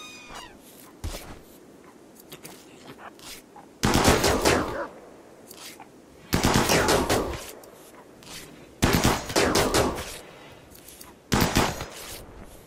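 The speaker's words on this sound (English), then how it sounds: "we're damaging goods, I'm pretty sure, when we shoot at him like this" Gunfire in RimWorld as colonists shoot at animals, with four loud bursts of rapid shots at regular intervals and quieter background sounds in the gaps.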